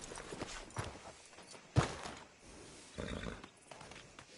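A horse in Red Dead Redemption 2 walking with soft hoof clops and a sharp louder thump partway through, quiet and irregular, with no talk.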